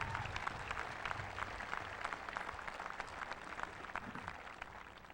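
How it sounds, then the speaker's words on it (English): Even applause from a commencement audience for the donor groups behind a local scholarship program; a dense wash of many hands clapping at a moderate, steady level for about five seconds, with no one speaking. "Let's have a round of applause for the groups."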